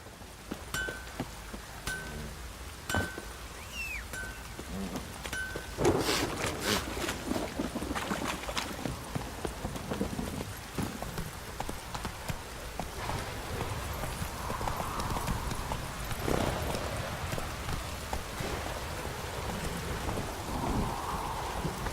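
Roach the horse gallops in The Witcher 3 with a steady, close clip-clop of hooves running throughout, layered over rain and rumbling thunder.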